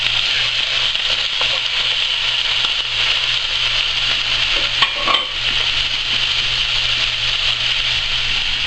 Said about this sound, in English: we're going to cook the chicken liver in the same pan